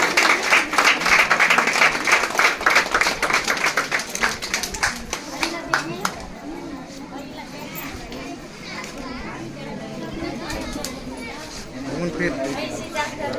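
Guests at a wedding burst into quick, dense clapping as the mangalsutra is put on, loud for several seconds before thinning out under lively chatter and children's voices.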